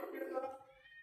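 A single cat meows briefly and faintly nearby, a short tonal cry that fades out within a second.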